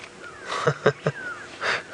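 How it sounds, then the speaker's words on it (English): Several nasal, drawn-out calls of grey go-away birds repeat at an uneven pace on a safari, moderately close, with a short break before a longer final call. "I can hear the grey go-away birds calling"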